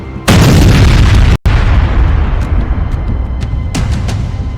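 A loud missile blast bursts in at a weapons depot, then a second one follows after a brief gap, leaving a continuous roaring rumble punctuated by several sharp cracks from serial explosions.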